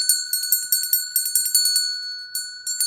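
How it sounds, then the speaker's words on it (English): A small bell is rung repeatedly in a quick, uneven rhythm, each bright strike ringing on with a sustained tone, close and clear with a brief pause before the last few strokes. "Oh, here, I'll ring my bell."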